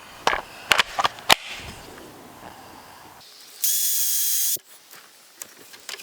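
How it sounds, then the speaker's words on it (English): A few sharp clanks, then a power drill drilling a hole whirs in one loud burst of about a second before a short rattle and quiet. "Okay, drill time."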